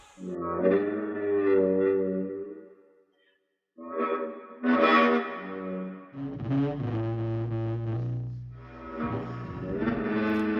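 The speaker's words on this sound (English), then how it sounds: "It's the call of the Corythosaurus," A recreated Corythosaurus dinosaur call: a low, resonant, horn-like sound swells and wavers in several long, distorted blasts with gaps between them, echoing and buzzy like a giant wind instrument.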